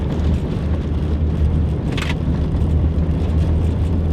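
An all-wheel drive Audi towing a caravan passes on a gravel road on the Oodnadatta Track, giving a steady, loud broadband rumble of engine and tyres on stones with a brief hiss partway through.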